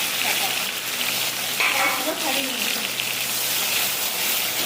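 Ginger and garlic sizzling in hot oil in a pan, a dense steady crackle throughout with a brief louder hiss of stirring midway.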